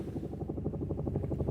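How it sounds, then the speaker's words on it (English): A low, rhythmic thudding drone of helicopter rotor blades chopping steadily at the Grand Canyon, Arizona, faint and continuous throughout. "That's a helicopter."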